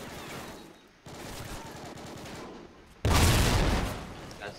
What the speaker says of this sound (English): this is already somebody shooting